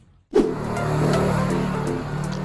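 A car engine roars up suddenly after a moment of quiet and holds a steady, loud drone as the car passes close by on a road beside a rural Thai home garden.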